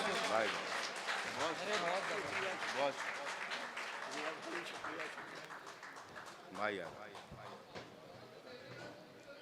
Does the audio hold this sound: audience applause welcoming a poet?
yes